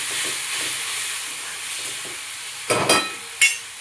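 Chopped tomatoes being mixed into sprouted moong usal over a high flame make a soft continuous sizzle, then a few louder scraping stir strokes near the end; no one speaks.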